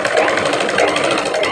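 A sewing machine runs steadily while stitching a rectangle on cloth, a fast continuous mechanical whir and rattle, close and unbroken throughout.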